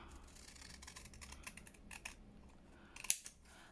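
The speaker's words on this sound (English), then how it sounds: "what I've done with the scissors, we're just going to cut that bottom off" Scissors snipping through paper while making a junk journal page, a few quiet, close crisp cuts in short bursts with light rustling between them, no talking.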